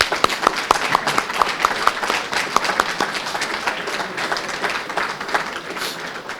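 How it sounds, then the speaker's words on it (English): Audience applause at a San Angelo ISD school board meeting, a sustained round of clapping from a roomful of people with sharper individual claps at the start, steady and moderately loud, gradually thinning toward the end. "Let's give them another big round of applause."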